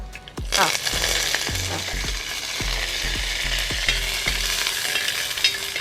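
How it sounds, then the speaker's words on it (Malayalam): Mustard seeds, dried chillies and curry leaves hit hot oil with a sudden loud sizzle, then crackle and pop steadily alongside rhythmic clanks of a spoon stirring the pan, close up. "എണ്ണ ചൂടായിരുന്നു കേട്ടോ എന്നിട്ടാണ് കടുകിട്ടത് വറ്റൽമുളക് ആ കുറച്ച് വറ്റൽമുളക് കുറച്ച് കറിവേപ്പില"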